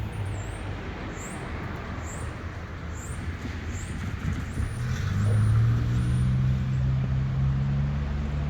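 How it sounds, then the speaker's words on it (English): Road vehicles rolling over a railroad grade crossing, a steady broadband rumble that swells as a vehicle passes, with a low engine drone building midway. "Get some traffic crossing."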